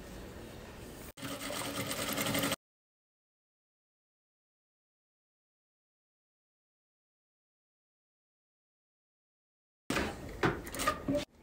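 A sewing machine stitches fabric for a Bible cover in two short bursts at the start, about two and a half seconds in total. A long stretch of silence follows, and a third burst runs near the end. Each burst is close, steady and whirring.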